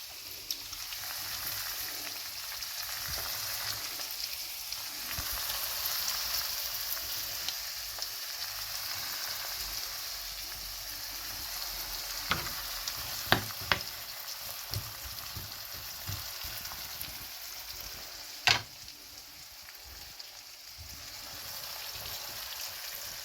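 Minced meat frying in a pan with diced tomatoes, giving a steady broadband sizzle throughout, broken by a few sharp clicks and scrapes of stirring near the end.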